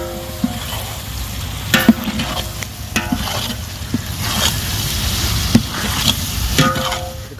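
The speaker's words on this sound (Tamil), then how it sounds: "அடுத்து தக்காளி போட்டுக்கிறோம்." Tomatoes sizzle as they are stirred into fried onions in a pan for mutton gravy, giving a steady frying hiss broken by the scrape and clack of a spoon.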